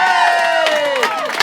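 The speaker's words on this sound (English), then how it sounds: "Give a round of applause to Adam Dunning." A studio audience at a televised show cheering and whooping loudly for Adam Dunning in a short, dense burst of crowd noise.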